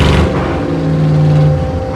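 A rough-running Cutlass engine with a carburetor problem that barely takes throttle idles close by in a steady, continuous low mechanical drone with a few uneven wavers.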